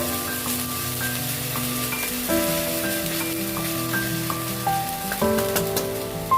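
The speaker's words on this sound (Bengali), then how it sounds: "মশলাটা একটু বেশ কষে নিতে হবে, ভালো করে একটু কষে নেব।" A spice paste of ginger, fennel and green chilli fries steadily in hot oil for a Kashmiri-style potato dum, giving a continuous close sizzle with light stirring, while background music plays throughout.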